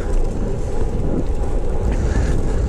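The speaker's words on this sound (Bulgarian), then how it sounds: "Само вятъра е леко дразнещ" Steady, loud wind buffeting a microphone beside a river, a continuous low rumble with no voices, filling the whole moment.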